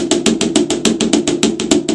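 A drum is struck in a steady stream of deliberate, evenly spaced strokes, about a dozen crisp hits in two seconds, close and loud, each with a short ring, with no talking.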